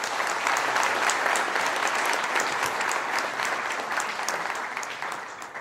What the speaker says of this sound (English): I also propose a big applause to you all organizers.